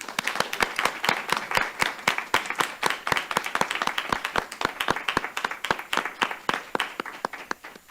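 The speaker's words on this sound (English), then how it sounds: "we want to give you one more round of applause" An audience at a board meeting claps steadily for about eight seconds, a dense, fairly loud round of applause with no voices over it.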